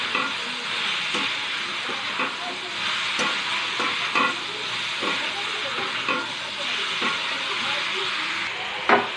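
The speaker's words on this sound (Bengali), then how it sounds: "এবার সবজি আনাজগুলো দিয়ে দেবো, ভালো করে নেড়ে নেবো।" Vegetables being stirred into hot spiced oil for a Bengali fish curry of gule fish, with a steady sizzle and hiss and repeated scraping of the spoon against the pan.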